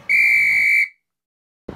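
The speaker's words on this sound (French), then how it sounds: "Je veux siffler quand je veux." A referee's whistle gives one sharp, shrill blast lasting under a second, loud and close, then silence before a short dull sound.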